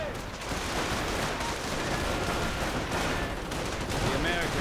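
Heavy machine gun fire and grenade blasts from a strategy video game form a dense, continuous barrage of overlapping shots and explosions, steady and loud throughout with a voice talking faintly beneath.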